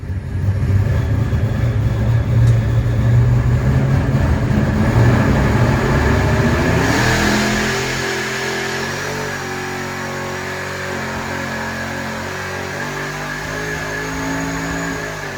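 A supercharged small-block Chevy V8 on a dyno, stock block, crank and rods, roaring loudly through a full pull, then easing off to a lower steady drone after the peak.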